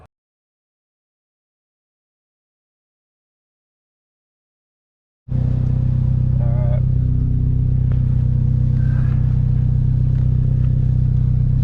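A Honda Civic with a K24 engine, an unfinished project car, runs loud and steady after a silent start, its engine rumbling close by on its first drive with brief clatter over the drone.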